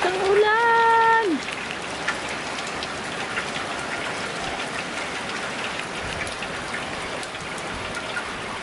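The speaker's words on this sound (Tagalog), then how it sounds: "lakas ng ulan" Heavy rain falling in a steady, loud roar. A brief rising tonal sound opens the clip, then the downpour continues evenly on its own.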